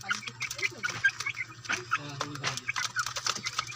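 Young chicks feed on stag developer mash, giving a busy chorus of high, rapid peeps and chirps up close, mixed with soft pecking taps and low clucking.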